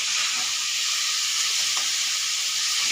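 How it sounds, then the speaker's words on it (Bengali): Snake gourd and pumpkin frying in a pan give off a steady, close sizzle of hot oil, an even hiss that runs the whole stretch with only faint shifts and no voices over it. "চিকিঙ্গা দিয়ে কুমড়ো দিয়ে একটু ভাজা বসাই বসালাম আর কি বসাই না বসিয়ে দিয়েছি"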